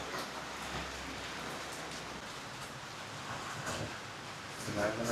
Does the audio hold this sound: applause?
no